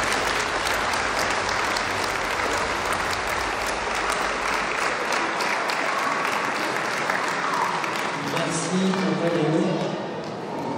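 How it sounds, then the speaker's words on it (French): Audience applause at a village New Year's greetings ceremony, a steady, fairly loud wash of many hands that thins out near the end as a few scattered claps and faint voices remain. "Merci de les applaudir pour leur investissement et nous leur en sommes vraiment très reconnaissants."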